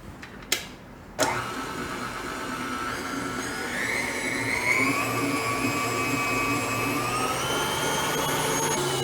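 An electric mixer whirs steadily while mixing Mayan chocolate pie filling, a few clicks and bumps at the start giving way to a continuous whine that rises slightly in pitch and holds, close and moderately loud.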